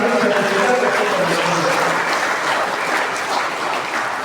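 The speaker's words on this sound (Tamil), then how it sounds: "சிறப்பு கரகோஷம் செய்து" Audience applause at a church feast at a 400-year-old St. James church on Vidathaltheevu, Mannar: a dense, continuous round of clapping from a crowd, loud and close, tapering slightly toward the end.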